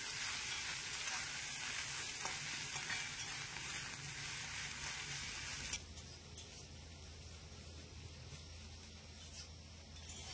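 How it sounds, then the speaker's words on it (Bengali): Soybeans fry in a pan while being stirred gently, a loud crackling sizzle up close with rubbing scrapes of the spatula, then the sound drops abruptly to a quieter, steadier fry. "সয়াবিনটা দিয়ে হালকা করে নেড়ে চেড়ে খুব সুন্দরভাবে সয়াবিনটা ভেজে নিতে হবে"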